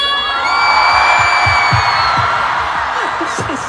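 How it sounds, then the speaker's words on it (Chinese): A concert crowd in Hangzhou cheers and shouts in welcome as actress Yang Mi appears at a show, a loud, sustained roar with whoops and a few sharp bangs. "大家掌声欢迎丽姐。"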